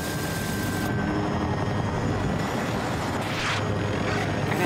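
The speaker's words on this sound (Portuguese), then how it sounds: "Helicóptero inimigo avistado!" An enemy helicopter in Battlefield 2042 Conquest produces a continuous rotor and engine roar, loud and steady throughout, with a faint whoosh passing near the end amid game ambience.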